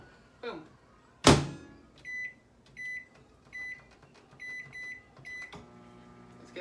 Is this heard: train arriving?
no